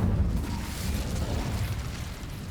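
In Hogwarts Legacy, the Incendio fire spell erupts as a loud, continuous roaring blast that rumbles steadily without a break for the full stretch, with no voices over it.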